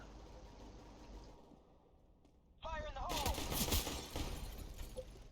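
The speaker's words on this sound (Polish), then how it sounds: "Normalne strzały." Gunfire in a Counter-Strike match near a bombsite. After a quiet stretch, a sudden loud burst of shots sounds close, with ringing ricochet-like tails and rapid follow-up fire over a game background.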